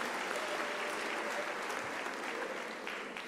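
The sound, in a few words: audience applause for management committee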